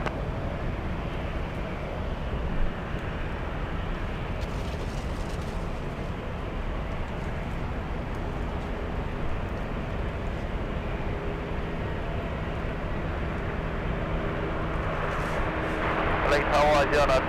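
Low, continuous jet roar of an Asiana airliner on approach to land at LAX, building gradually and growing louder toward the end, with airport ambience around it.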